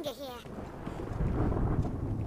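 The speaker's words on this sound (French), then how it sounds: "Il y a un drôle de bruit, un espèce de coup de tonnerre." A deep, rumbling thunderclap-like boom rolls in during Dragon's Dogma: Dark Arisen, building and swelling low after a brief voice at the start, then sustaining as a heavy roar.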